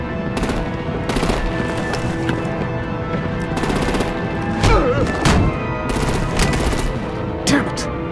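Rapid machine-gun bursts and heavy thuds during a vehicle fight in Batman: The Enemy Within, loud and repeated over a constant rumble, with occasional shouting voices.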